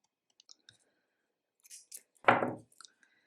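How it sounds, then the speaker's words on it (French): A single sharp snip of scissors cuts crochet yarn, preceded by a few faint clicks and light handling noises in a quiet room. "et on coupe le fil."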